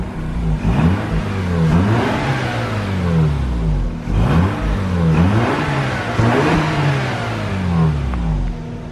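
The rotary engine of a salvage-auction Mazda RX-8 R3 revs repeatedly toward its 9,000 RPM redline, with rising and falling whines in close succession, loud and close, with no talk.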